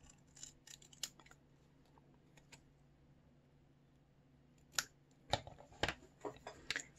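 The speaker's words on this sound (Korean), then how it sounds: "싹둑 잘라주세요." Scissors snip through folded paper while a paper craft card decoration is being cut out, a few sharp close cuts clustered near the end after a quiet stretch of faint handling.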